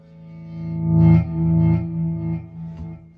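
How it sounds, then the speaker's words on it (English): Electric guitar notes through a delay effect ring out, a repeating delay trailing each pick, swelling and fading over a sustained tone, with no voices. "But let's use a little delay here."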